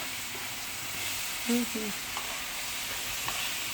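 Spinach wilting in a hot pan gives off a soft, steady sizzle with a few light stirring clinks and scrapes, all fairly quiet and close.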